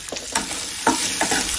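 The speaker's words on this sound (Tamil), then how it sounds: "இதையெல்லாம் எண்ணெயிலே வதங்கட்டும்." Onions and garlic sautéing in oil for chicken kola urundai, with a steady close frying hiss broken by several scraping stirs of a spoon through the pan over about a second and a half.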